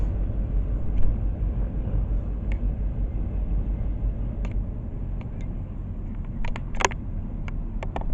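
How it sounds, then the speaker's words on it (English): A train pulls away at a Florida railroad museum, giving a steady, low, distant rumble with faint scattered clicks and squeaks of the cars, and no voices. "The train leaves."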